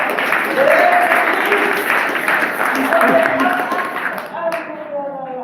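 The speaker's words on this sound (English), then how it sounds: "Starting, yes, clap for that, Donella." An audience claps and applauds steadily for several seconds, then the clapping thins out and fades near the end.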